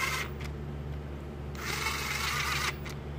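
A power driver runs bolts into a Harley-Davidson Twin Cam engine during a cam installation, giving two short buzzing whirs separated by a pause over a steady background hum.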